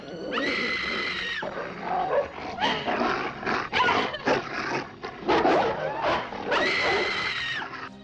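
Dogs bark and yelp in repeated bursts, loud and close, with a couple of sustained howling cries at the start and end.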